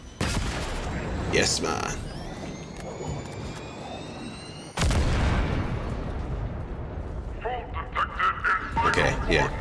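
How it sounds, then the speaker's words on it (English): A loud, sudden blast erupts in Halo Infinite gameplay, following scattered gunfire and a rising whine, with heavy rumbling and further shots after it while someone talks briefly. "I think it's gonna explode."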